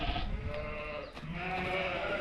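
A ewe bleats loudly and close by on a farm at lambing time, a wavering nasal cry with a brief dip partway, rough outdoor noise underneath.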